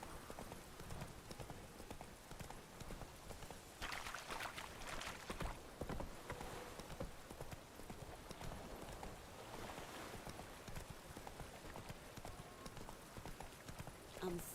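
Roach, Geralt's horse in The Witcher 3, trots with steady clip-clop hoofbeats throughout, moderately loud, while voices speak over them at times.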